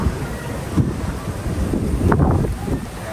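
Steady wind buffeting a microphone, a broad rushing roar with gusty swells throughout, no voices.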